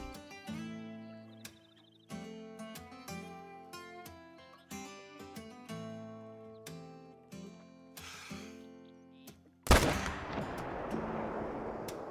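A single loud rifle shot aimed at a whitetail buck in the hunting game Call of the Wild, Mexico map, cracking sharply near the end after several seconds of rhythmic plucked music, followed by a long rolling echo.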